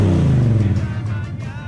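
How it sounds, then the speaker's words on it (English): A car peels out close by during a music video shoot, its engine roaring and revving hard in a thick, steady rumble that fills the whole moment without a break. "the car peels out right in their face"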